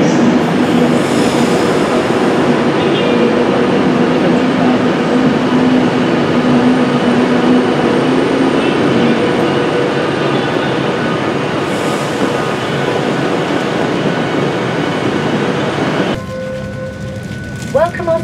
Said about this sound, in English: I'm waiting for the 11:08 Avanti West Coast service to take me to Wigan North Western